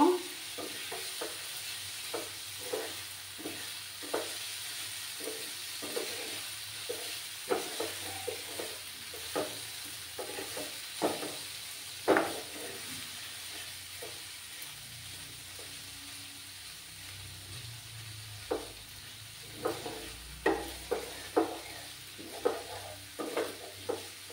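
Red spinach stirred with poppy seeds in a pan makes a soft, steady sizzle, with regular spatula taps and scrapes repeating throughout and no talk.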